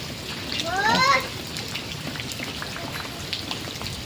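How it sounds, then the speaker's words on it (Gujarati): Steady rain patters down continuously, a dense, even hiss of drops, while a voice is heard briefly near the start. "વરસાદ પણ ચાલુ થઈ ગયો"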